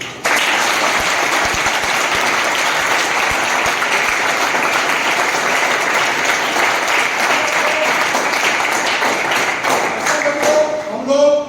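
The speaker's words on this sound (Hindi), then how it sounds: "एक बार कम से कम जोरदार ताली लगा देंगे" Schoolchildren clap loudly at a fire safety awareness program at an international school, a thick, sustained burst of many hands that keeps going strong before thinning near the end.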